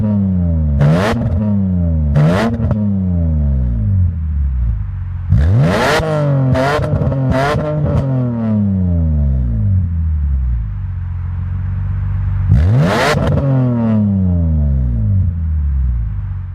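A BMW M3 engine idling loudly nearby, revved sharply several times, each rev rising in pitch and falling back to a rough idle.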